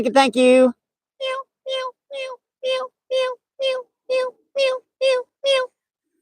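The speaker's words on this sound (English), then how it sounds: "That's 10 meows for Double A" Ten evenly spaced cat meows play as a live stream alert, short clear tones at a steady rhythm, preceded by a brief burst of speech.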